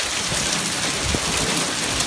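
Monsoon rain pours down in Arizona, a dense, steady hiss of heavy rainfall striking surfaces, with no voices heard.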